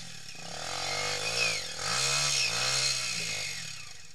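A dirt bike engine revs on a trail, its buzzing note rising and dipping through several throttle pulls over a few seconds, fairly close and without talk.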